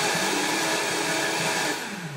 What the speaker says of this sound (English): I blend things in a high-speed blender all through the night.